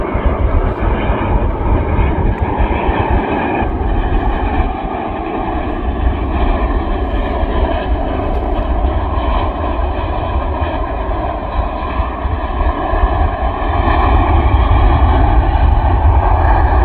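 An Etihad airliner arriving at Manchester Airport, heard from the south side viewing park as a loud, steady jet roar that holds at the same level throughout, with no talking.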